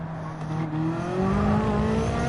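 British GT Ferrari 458 Italia race car in Gran Turismo 7, its engine loud and close, revving and climbing in pitch as it accelerates through the gears, with no talking.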